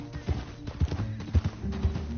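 Horse hooves clip-clopping at a walk in Red Dead Redemption 2, four distinct soft thuds in an even rhythm at moderate distance, with a faint whinny and low background ambience.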